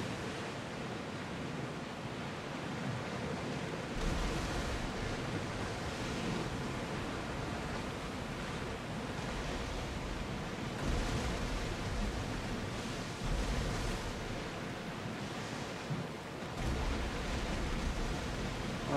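Ocean waves in Assassin's Creed Odyssey wash in a continuous broadband rush, swelling in several soft surges every few seconds, moderately quiet with no talk over them.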